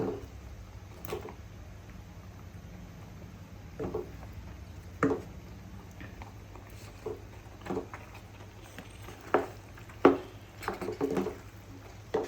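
White sauce pasta with cheese is stirred in a pan, giving soft, irregular scrapes and taps, quiet and close with no talking.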